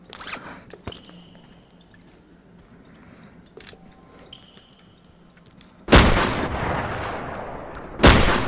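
AK rifle fire in the video game SURV1V3: after quieter game noises, two loud bursts break in, the first sustained for about two seconds and then a second sharp burst, close and harsh.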